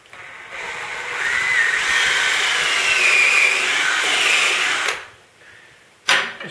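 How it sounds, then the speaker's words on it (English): A power drill whines steadily for several seconds boring a 3/8-inch hole in steel, then spins down, followed by a short renewed burst. "Next thing is to drill a 3/8 hole."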